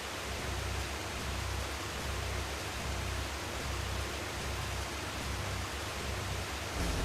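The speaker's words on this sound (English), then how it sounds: "Ah, rain. That's what it sounds like outside my house right" Steady, dense rain ambience from a video game, a constant full-spectrum hiss with a low rumble beneath, even and unbroken throughout with no voices.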